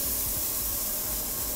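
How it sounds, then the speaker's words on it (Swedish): A smashed burger patty fries on a hot surface, giving a steady, close, loud broadband sizzle and hiss that holds evenly throughout with no talking. "nu är det dags att steka"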